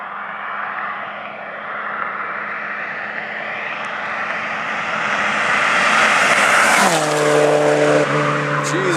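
A Chevrolet Cobalt SS car roars past in a flyby, a loud engine swelling as it approaches, then a sharp drop in pitch as it passes and recedes with a steady droning tone.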